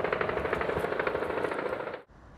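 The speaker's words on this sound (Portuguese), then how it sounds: "Rajadas de metralhadora" Rapid, continuous automatic gunfire rattles loudly for about two seconds, then cuts off abruptly into quieter background noise.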